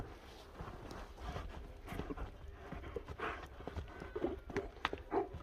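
Hooves of a Karabair horse striking the ground as it is turned left and right, giving an irregular clip-clop of close, moderately loud steps over low outdoor rumble.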